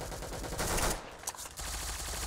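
Rapid automatic gunfire from a shooter video game, a burst of crackling shots that pauses briefly, then resumes at moderate loudness.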